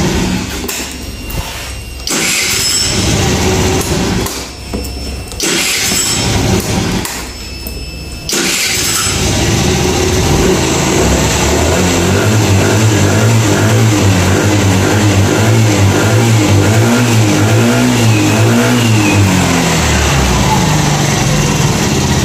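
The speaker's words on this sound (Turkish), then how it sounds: "görmüş olduğunuz gibi devir saatimiz de 9000 rahat bir şekilde çeviriyor." An engine that has just been repaired for loss of pulling power and failing to run revs up to 9000 rpm, close by. It starts with rough, choppy bursts, then climbs into a loud, sustained, steadily rising whine.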